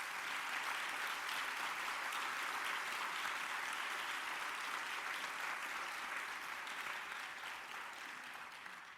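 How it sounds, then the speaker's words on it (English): A conference plenary audience in Omaha applauds its session speakers, a dense, steady wash of many hands clapping at once that holds evenly for several seconds and tapers slightly at the end, with no voices over it. "I hope we can give a nice round of applause to our speakers."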